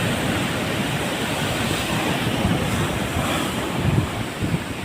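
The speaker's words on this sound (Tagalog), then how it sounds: "laki ng alon oh." Surf pounding near a lighthouse at Sulangan, a steady loud roar of breaking waves mixed with gusting wind buffeting the microphone, with no voices.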